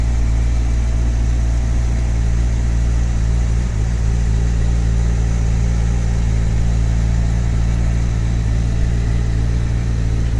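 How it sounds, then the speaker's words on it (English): A 2013 Corvette 427 Convertible idles with its two-stage exhaust in quiet mode, a steady deep rumble that stays loud and close throughout, with no talking. "recording with the car running"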